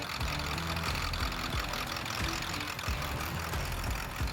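A rebuilt 7.3 Powerstroke diesel engine idles on its own, a loud, close, steady rumble with a rhythmic knocking clatter throughout and no talking.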